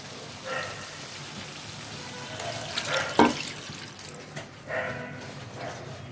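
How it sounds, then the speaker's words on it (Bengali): Water poured into a pan of frying vegetables and tomato for a fish curry, giving a soft splashing hiss with a few brief louder bursts against a steady background. "এখন দিয়ে দিব আমরা অল্প একটু পানি।"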